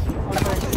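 Rapid gunfire from an Apex Legends match, a dense fusillade of overlapping shots with a burst of explosive booms, loud and continuous through the short stretch without any talking.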